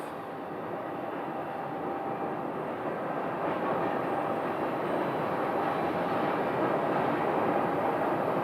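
A British Airways airliner arriving at Phoenix Sky Harbor, a steady broadband roar that slowly grows louder over several seconds as the jet approaches, with no talking.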